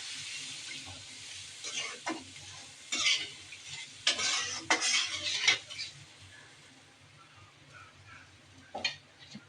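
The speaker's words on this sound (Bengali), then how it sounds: "পেঁয়াজ দিয়ে ভুনা করছি মাছ।" Fish simmering with onions in a pan while a utensil scrapes and clatters against the metal in irregular bursts, with a soft, quiet sizzle underneath.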